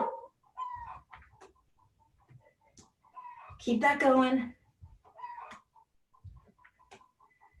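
An excited hen clucks after laying an egg, with scattered short clucks and then a loud burst of rapid squawking cackles nearby, and a person speaks briefly between the calls.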